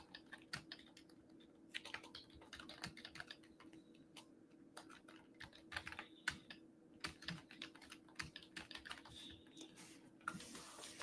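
Rapid, quiet typing on a computer keyboard, dense irregular key clicks in bursts over a faint steady hum, with no talking.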